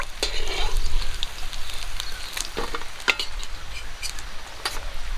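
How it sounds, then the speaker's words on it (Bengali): Small puti fish fry in hot oil in a wok, a dense, steady sizzle crackling throughout at close range, with a few sharper spatters and pops rising above it. "কই মাছ ভাজা তেলেই আমি পুঁটি মাছগুলো ভেজে নেব"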